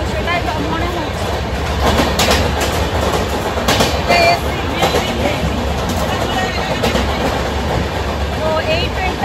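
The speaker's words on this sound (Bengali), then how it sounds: "এই ট্রেনটা হচ্ছে অমৃতসর মেল" Amritsar Mail passenger train running at speed, heard from on board with a loud steady rumble and rhythmic clatter of wheels on rail joints, while people talk nearby.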